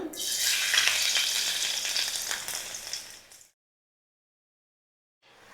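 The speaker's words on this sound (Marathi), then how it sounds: "तेल तापलं की ह्यात आपल्याला टाकायचं आहे लसूण" Garlic fries in about four large spoons of hot oil, a loud, bright sizzle that fades over about three seconds before silence, followed by a short return at the end.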